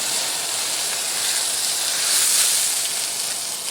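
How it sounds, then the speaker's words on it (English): Cooking oil flaring up on a grill under an onion blossom, a steady loud sizzling hiss that swells slightly toward the middle, with no voices. "And I'm actually going to let the oil flare up a little bit."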